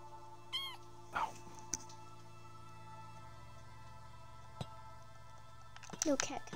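A cat meows in a Minecraft-style survival video game, a few short bursts near the start and louder ones at the end, under players talking.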